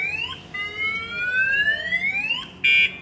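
A Viper security system on a 2003 GMC Sierra single cab sounds off with a loud, close siren that sweeps upward in pitch, ending in a brief harsh buzzing tone, with no one speaking.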